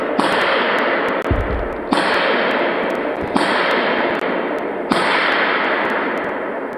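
Rifle shots at an outdoor shooting range ring out as four loud, sharp cracks spaced about one and a half seconds apart, each followed by a long echoing tail, with no talking.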